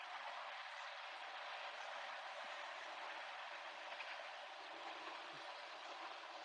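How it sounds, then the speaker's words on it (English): A long train rolls past in Las Vegas on a 107-degree day, a faint, steady broadband rumble and rush that holds evenly throughout with no voices. "Looks like it's a long train too."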